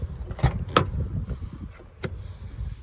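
The rear driver's-side passenger door of a 2016 Toyota Landcruiser Prado GXL Wagon opens with a few sharp, close clunks and clicks from the latch and handle, followed by quieter rustling and faint handling noises.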